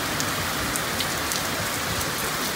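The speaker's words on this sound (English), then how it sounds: "Yet again, just another very rainy, rainy day." Steady rain on a rainy day, a loud continuous patter on surfaces with occasional distinct drops.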